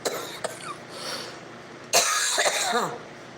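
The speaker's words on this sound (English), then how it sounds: "Stupid damn coughing." A few sharp coughs, a quiet stretch, then a harsher burst of coughing and throat clearing, close and fairly loud.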